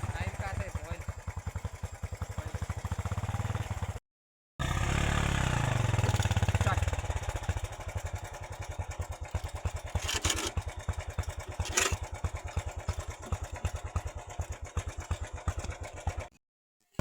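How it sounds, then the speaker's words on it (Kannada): A motorcycle engine tied to a rope for hauling stone loads on a hillside farm runs steadily and loudly. It cuts out briefly, restarts, and idles with a continuous clattering drone. "ಈಗ ನಾವು ಬೈಕ್ ಸ್ಟಾರ್ಟ್ ಮಾಡ್ತೀವಿ."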